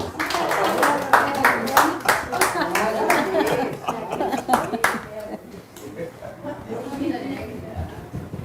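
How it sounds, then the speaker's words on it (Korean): Scattered audience clapping at a Korean health lecture, a burst of claps for the first five seconds fading into sparse claps under ongoing talk and some chuckling. "박수 한번 쳐주세요"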